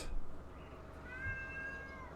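A cat gives a single drawn-out meow that rises and then holds, clear over a quiet background with no talking.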